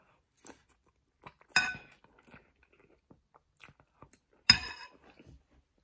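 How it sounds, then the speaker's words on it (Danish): Someone eats a bite of very spicy chili noodles, with a few soft, sporadic wet chewing and slurping sounds close to the mic and two sharper bursts in between, no talking. "Nu tager vi en bid mere."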